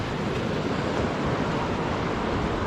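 The Little Susitna River in Alaska, in a snowy setting, rushes past nearby in a dense, constant broadband roar of flowing water with no talk.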